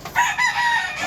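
A hybrid fighting rooster crows once, loud and close, a brief harmonic call that holds steady over about a second with no other sounds around it.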